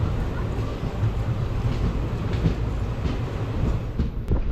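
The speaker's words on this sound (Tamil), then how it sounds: "இந்த 9:40க்கு இந்த நாமக்கல் ரயில்வே ஸ்டேஷன்லேருந்தும் ட்ரெயின் ஸ்டார்ட் ஆகிடுச்சு." A passenger express train departing Namakkal railway station at night, giving a steady close rumble of rolling wheels and carriage noise with faint rhythmic clatter throughout, no voices.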